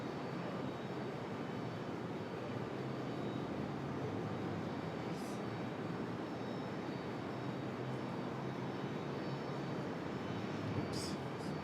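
An airplane roars down the runway at Raleigh Durham International Airport, a broad, steady engine rumble heard from a distance, with faint radio chatter now and then.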